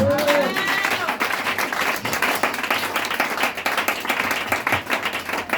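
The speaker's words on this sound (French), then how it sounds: "Est-ce que tu peux acclamer le Saint-Esprit?" Congregation at a Pentecost church service applauding and cheering loudly, dense sustained clapping with shouts and voices throughout, close and energetic.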